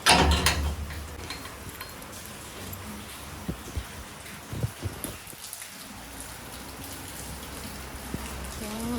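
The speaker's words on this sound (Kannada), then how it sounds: "ನೋಡಿ ಮಳೆ ಹೆಂಗೆ ಹೊಡಿತಾ ಇದೆ" Rain patters steadily throughout, with a loud burst at the start and scattered knocks and thumps nearby.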